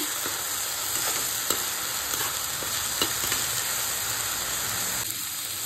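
Onion and spice masala for chana masala sizzles over a medium gas flame, a dense steady frying hiss with periodic spatula scrapes and taps as it is stirred, close up.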